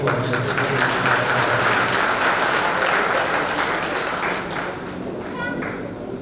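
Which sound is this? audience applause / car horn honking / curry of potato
audience applause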